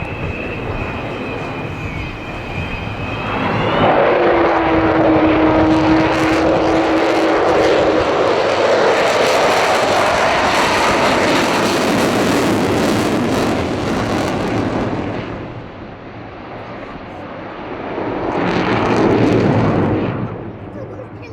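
Avro Vulcan XH558 jet bomber performs an air show display at the Bournemouth Air Festival, a loud, sustained roar of jet engines swelling overhead with a high whine at first, easing, then rising again.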